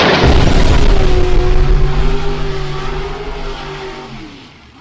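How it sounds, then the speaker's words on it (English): A tank arrives in a sound effect, a loud, heavy engine roar with a booming rumble that rises at once and then slowly fades away over a few seconds, with no talking. "So let's bring in the tank. Call in the armor"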